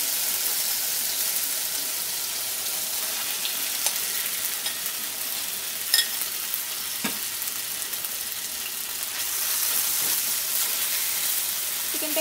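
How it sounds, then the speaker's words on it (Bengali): Chicken pieces for keema Mughlai paratha fry in a pan, a steady close sizzle with scraping and stirring clatter from a spatula and a few sharper knocks, no talking. "চিকেনটাকে ভালো করে নেড়ে নিচ্ছি।"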